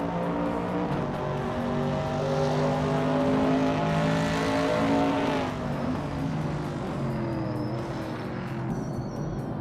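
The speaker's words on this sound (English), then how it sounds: "the race is kicking off at Sepang, and leading the pack is Leon Trudeau in a classic 1968 Chevrolet Camaro, sitting on pole" Race cars roar at the start of a race at Sepang, led by a classic 1968 Chevrolet Camaro on pole, with engines droning and revving together in a continuous, loud wash that swells and shifts in pitch.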